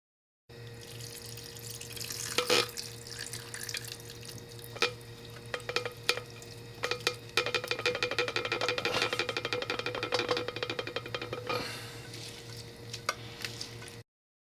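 Hot rendered fat, pure with little meat, pours steadily into a container for about thirteen seconds, a continuous liquid trickle with occasional sharp clinks and spatters, close and moderately loud with no talking.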